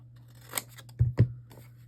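Scissors cut through paper in a few quick snips close by, two sharp strokes coming in rapid succession after a lighter rustle, with no voices.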